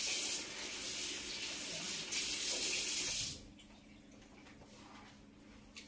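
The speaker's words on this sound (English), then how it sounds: "I wash my hands now." Tap water runs steadily into a kitchen sink while hands are washed beneath it, a close, continuous splashing hiss that stops partway through, leaving a quiet room.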